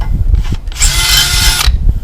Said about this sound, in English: So I just drill a hole up in here,